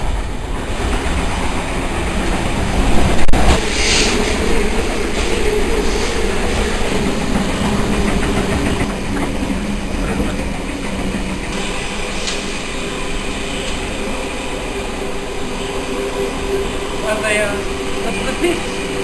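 Steady rumble and rattle of a train running on rails, heard from inside a carriage, with a constant hum and occasional louder knocks, under intermittent talk from passengers.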